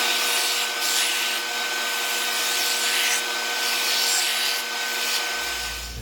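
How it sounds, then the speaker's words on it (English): Sanding the edge of a take-down recurve bow limb to remove limb twist, a steady close abrasive rasp with slow rhythmic strokes and a faint electrical hum underneath. "I'm sanding this edge down a little bit more"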